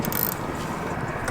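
A ratchet loosening the motor mount on a racing kart, a brief close burst of fast clicking over steady background noise.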